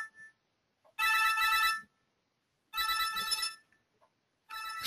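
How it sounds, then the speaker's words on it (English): A telephone rings indoors in three bright, trilling bursts about a second long, separated by short silent pauses, clear and fairly close with nothing else over it. "that's my telephone ringing"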